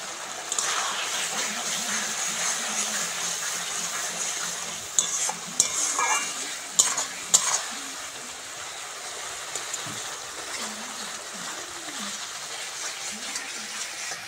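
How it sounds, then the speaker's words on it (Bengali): Spices frying and being stirred in a pan for egg biryani, a steady sizzle with scraping and clattering of a spoon against the pot, a few brief louder knocks midway, no voice. "মশলা ভালো করে ভেজে নিয়েছি।"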